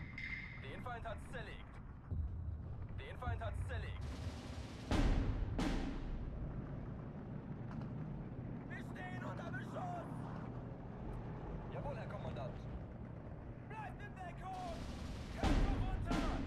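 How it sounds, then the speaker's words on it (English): Mortar artillery fires in the Steel Division 2 war strategy game, a few heavy thumps spaced seconds apart over a low battlefield rumble, with a person talking through much of it. "Use the mortar this time"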